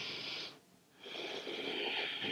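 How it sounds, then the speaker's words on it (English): Slow, audible breaths during a yoga side-bend practice: a breathy inhale, a brief quiet pause, then a longer airy exhale, close and soft with no talking. "Let's play around for another breath in and out."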